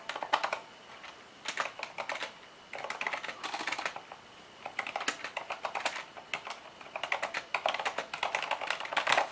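Rapid typing on a Corsair K70 RGB MK.2 Silent mechanical keyboard with an aluminum plate, close and steady in bursts of quick muted key clicks with brief pauses, no talk.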